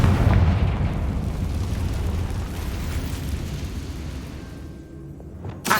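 A fire-blast spell in the Hogwarts Legacy game erupts with a deep, rumbling explosion that rolls on and slowly fades, loud and heavy in the low end, with no voices.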